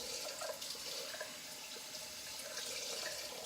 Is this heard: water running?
yes